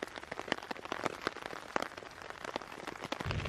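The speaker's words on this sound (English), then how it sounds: "Man, this is awesome, just sitting here in the rain." Steady rain patters through an Australian forest in a dense, continuous wash of close drops and sharp taps, with no voices.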